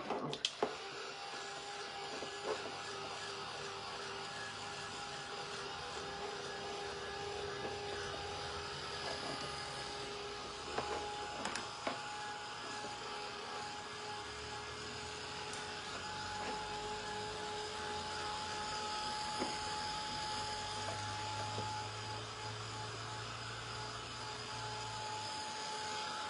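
A hand dryer or heat tool runs steadily to dry freshly painted craft work, a constant close whirring hum with a faint tonal whine and occasional small clicks, with no talking.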